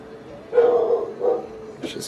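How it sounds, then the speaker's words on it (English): A puppy gives a couple of short, close yapping barks at people, with a brief high yip at the end. "My puppy like loves to bark at everybody."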